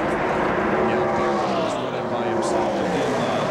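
NASCAR Winston Cup stock cars race three wide on the steep banking at Talladega Superspeedway in 1995, a loud continuous engine roar with pitch shifting as cars pass, under a commentator's voice.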